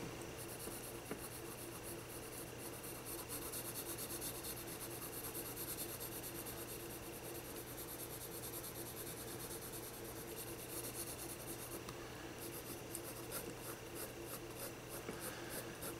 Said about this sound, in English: And all I'm using here is a 2B pencil for this.